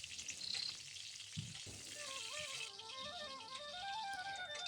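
Cumin seeds crackle and sizzle softly in hot oil left over from frying pointed gourd, a faint, close frying hiss with a couple of brief clatters early on.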